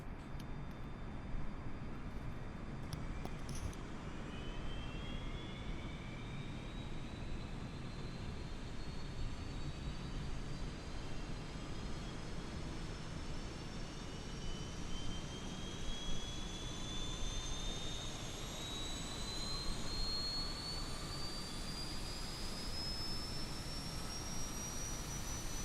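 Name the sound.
Airbus A320neo APU starting up, from video game MSFS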